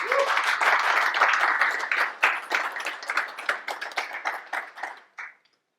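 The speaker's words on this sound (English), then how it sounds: "A hand of applause." An audience at a personal-development workshop applauds together, with dense, lively clapping that rings out near and full, then thins into scattered claps before stopping abruptly.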